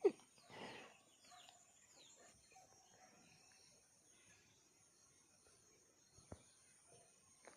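A rooster crows briefly near the start, followed by faint clucking and soft background insect chirping in a quiet outdoor village setting in Yelagiri.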